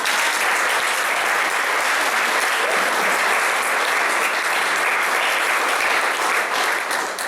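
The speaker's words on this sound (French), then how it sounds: "Applaudissons pour le Seigneur" A church congregation applauds during worship, a loud, sustained wash of many hands clapping that runs evenly for several seconds, close and full, fading slightly at the very end.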